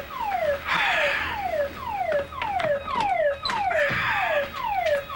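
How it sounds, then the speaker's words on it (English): A fire alarm goes off indoors in a television drama, an electronic tone that sweeps downward again and again about twice a second, loud and steady, with no voices over it. "What's that? Fire alarm?"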